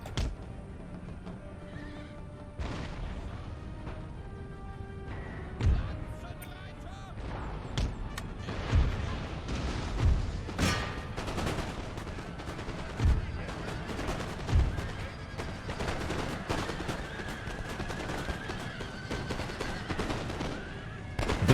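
Infantry volleys fired in formation on an Empire: Total War battlefield, sharp separated booms spaced every second or two among horse neighs, hooves and battle ambience.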